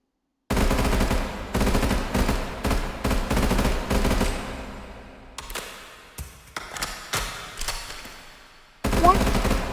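A gun fires in a modded Minecraft game, with repeated bursts of rapid automatic shots, loud and close, broken by short pauses and tapering into scattered single shots.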